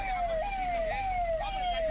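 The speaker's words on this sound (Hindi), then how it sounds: "जाम की वजह से एम्बुलेंस यहां फंसी हुई दिखी।" An ambulance siren wails in repeated falling sweeps, about four cycles, steady and fairly close, while the ambulance sits stuck in a traffic jam caused by a political motorcade, with a low traffic rumble beneath.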